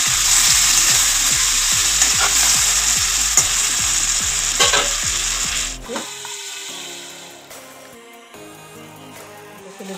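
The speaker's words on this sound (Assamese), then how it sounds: "মই এতিয়া লাগি দি আছোঁ, মই ভাজি লৈ আছোঁ।" Climbing perch sizzling and crackling in hot oil, with a steady run of rhythmic scraping strokes for several seconds before the frying settles into a quieter sizzle.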